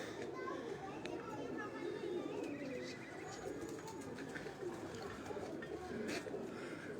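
Pigeons flutter and coo on a rooftop in Lahore, mixed with distant children's voices and ongoing talk over a steady outdoor background.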